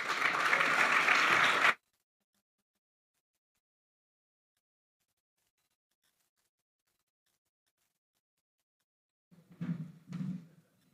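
At a Bondi and districts chamber of commerce event, an audience gives the mayor a short burst of applause that cuts off abruptly, followed by long silence and two faint dull knocks.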